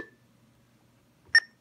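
A single short 1750 Hz access tone from a Motorola two-way radio sounds as one brief, clear electronic beep near the end, preceded by a faint, fading tone and near silence.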